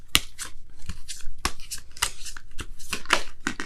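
Tarot cards are shuffled and handled for a reading, giving close, crisp riffling and snapping card sounds in a quick, irregular stream.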